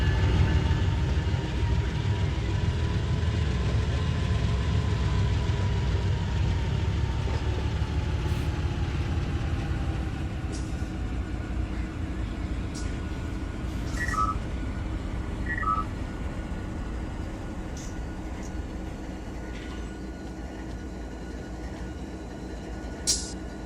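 A freight train shoving back in the Run 8 train simulator rumbles low and steady, with an engine drone, a faint rising tone, a few soft beeps and occasional clicks.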